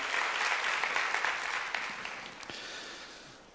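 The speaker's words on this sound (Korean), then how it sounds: "다시 한번 뜨거운 박수 부탁드리겠습니다." A church congregation gives warm applause for the Gloria choir during a Sunday service, a steady wash of clapping that gradually fades over a few seconds.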